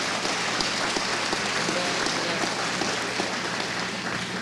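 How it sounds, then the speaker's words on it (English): A lecture audience breaks into sustained, thick applause, a loud continuous wash of many hands clapping at once with no pauses, filling the hall for several seconds. "for starting that round of applause"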